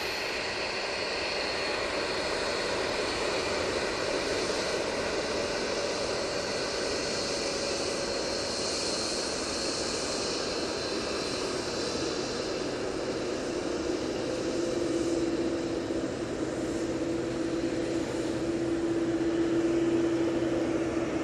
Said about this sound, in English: decent noise coming off this 787-8 Dreamliner